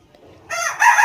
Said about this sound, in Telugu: కోడి కూస్తూనే ఉంటుంది ఈ రోజంతా